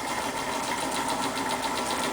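Old late-model Weeden No. 14 toy steam engine with governor and sight glass, no-rivet boiler, running steadily up close with an even mechanical chugging and fast rhythmic ticking, no talking.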